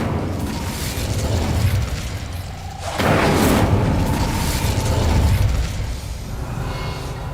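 A fire spell cast in Hogwarts Legacy bursts out as a loud whooshing boom, swelling sharply midway and holding for a few seconds before easing back into a continuous roar.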